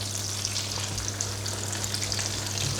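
Breaded pork schnitzels frying in hot melted butter in a pan, a steady close sizzle and crackle running throughout with no talk.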